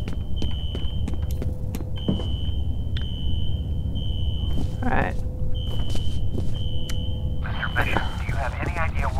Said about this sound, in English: A fire alarm. It was triggered at the security office on that floor.